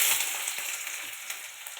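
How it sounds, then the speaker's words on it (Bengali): Sliced onion dropping into hot oil in a wok, a bright burst of sizzling that settles into a steady hiss over a couple of seconds, close and alone. "এখন দিয়ে দেবো তেল। কড়াতে দিয়ে দেবো পেঁয়াজ"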